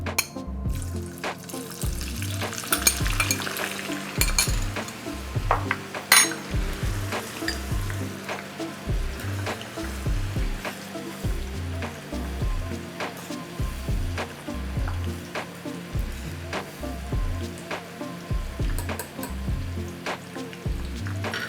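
Onions frying in hot oil for a jackfruit biryani, a steady broadband sizzle running throughout with scattered clicks and a repeating low rhythmic thumping underneath, no voices.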